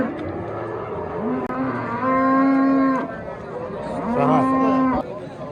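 A cow moos twice, long and drawn out, close by at a livestock market, with a brief pause between the calls.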